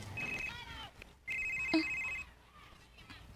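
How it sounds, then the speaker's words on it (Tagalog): A cellphone rings in a room, with two electronic ringtone bursts, a short one and then a longer one, fairly close and clear, with no speech over the rings. "Kinsa man ang cellphone?"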